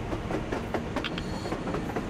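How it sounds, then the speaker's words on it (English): In the Metro Exodus video game, a train rolls past on the surface, its wheels clicking and clattering in a steady, rapid rhythm over a continuous rumble. "A damn train on the surface!"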